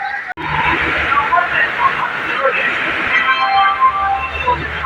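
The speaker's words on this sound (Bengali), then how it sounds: "স্টেশন চলে এসেছি, এই যে ট্রেনও দাঁড়িয়ে আছে" A stationary train stands at a busy railway station, its low rumble and humming tones running steadily beneath the background chatter of people talking nearby.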